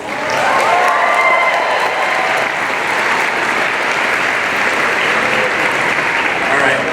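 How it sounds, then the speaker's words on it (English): A large convention audience at Phoenix Comicon 2014 bursts into sustained applause, a dense, steady wash of clapping that holds loud and even throughout, with scattered cheers mixed in. "Let's give it a round of applause."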